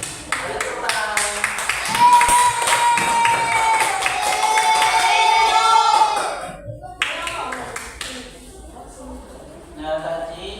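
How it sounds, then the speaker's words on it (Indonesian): A classroom group claps during an Indonesian teaching session, scattered hand claps building into brief applause alongside voices and a cheering tone, then fading to sporadic claps and talk. "Tepuk tangan."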